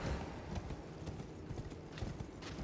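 Hooves pound steadily in a fast, dense rhythm as a horse gallops across open ground in Elden Ring, loud and continuous for the whole stretch with no voice over it.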